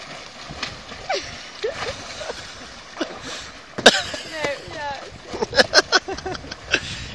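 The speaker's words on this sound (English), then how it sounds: "More paddling." Kayak paddling on open water, with irregular splashes and drips as the blades dip in and pull through, fairly close. People talk and react intermittently over the water sounds.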